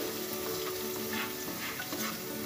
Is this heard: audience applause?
no